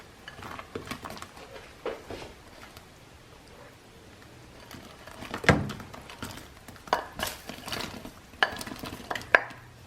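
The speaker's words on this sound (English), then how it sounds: "I am going to add 18 ounces refrigerated 5 cheese tortellini" Refrigerated five-cheese tortellini tipped into a pot of sausage and tomato soup, with soft clinks, stirring and scattered knocks of utensil against pot, mostly faint with a few sharper taps, no voices.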